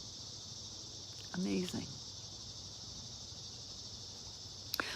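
A steady, shrill insect drone like cicadas buzzes continuously outdoors, with a brief spoken phrase partway through and a couple of sharp clicks near the end.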